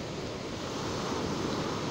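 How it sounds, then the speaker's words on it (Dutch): Ocean waves wash onto a beach as the tide rises, a dense, steady roar of surf with wind rushing across the microphone, loud and continuous for two seconds with no voices. "De golven worden steeds hoger en wilder."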